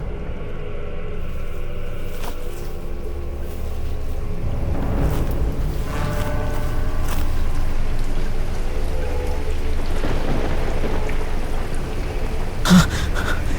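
Continuous steady rain of a thunderstorm with a low rumbling wash underneath, fairly loud and constant, and no voices.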